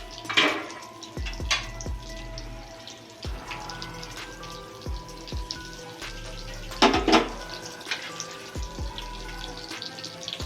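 Water is drawn from a kitchen tap while cooking a pabda fish curry with eggplant. Intermittent splashes and sharp clinks of a vessel against the sink come in a few bursts over a faint, steady background, with no talk.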